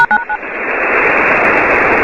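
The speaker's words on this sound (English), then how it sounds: "And then you heard a couple of touch tones designed to trip something." A few short DTMF touch tones beep at the start of a radio transmission, then give way to a loud, steady hiss of radio static.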